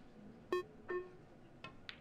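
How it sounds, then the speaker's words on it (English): Two short, clear electronic beeps sound in a quiet room at a pool championship final, followed by a couple of fainter clicks and chirps. "those beeps sound really loud"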